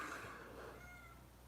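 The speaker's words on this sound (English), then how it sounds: "The cat likes to say hello." A house cat meows faintly in the background, a single drawn-out call fading over about a second and a half against low room noise.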